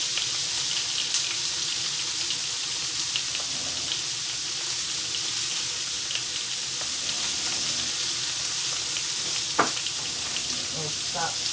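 Butter sizzles steadily on a deluxe electric grill and griddle being used to make fajitas, a continuous close hiss with a few faint clicks and no talking.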